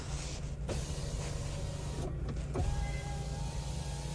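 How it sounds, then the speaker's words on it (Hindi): Power windows in a Mahindra Thar petrol automatic whirring as their motors run, with a couple of switch clicks and a window stopping, heard close and quiet over a low cabin hum. "और ये पावर विंडोज़ के स्विच हैं,"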